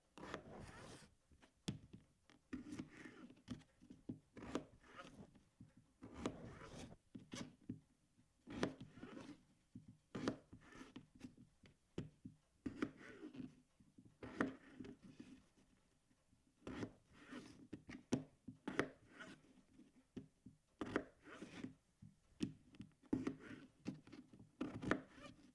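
Knife chopping potatoes into small cubes, a run of sharp, repeated cuts hitting a wooden board at an uneven rhythm, sometimes in quick bursts, fairly close and fairly quiet, with no talking.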